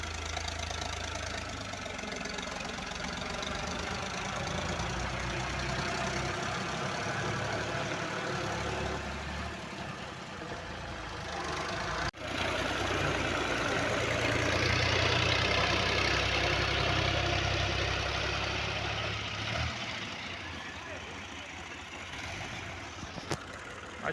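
Diesel engine of a tractor fitted with a front blade, running steadily at a construction site, a continuous loud rumble with a brief sharp interruption midway and no talk.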